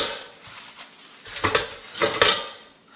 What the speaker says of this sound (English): We're just going to go ahead and put this in our fryer.